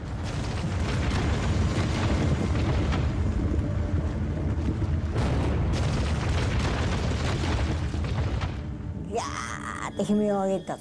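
The Fat Man atomic bomb explodes over Nagasaki in a sustained, loud, rumbling roar with surging blasts and mechanical churning that persist for about nine seconds. A sharp cut follows into a brief strained burst of other sound.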